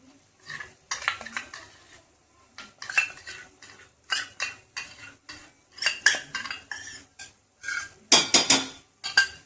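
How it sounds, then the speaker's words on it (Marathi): A spoon repeatedly scrapes and clanks against a pan while curd mixture is stirred into a besan gatte gravy, giving loud irregular metallic clinks and scrapes with short pauses between bursts. "दह्याचं जे आपण मिश्रण तयार केलं होतं ते आपण त्यात टाकून मिक्स करून घेऊया."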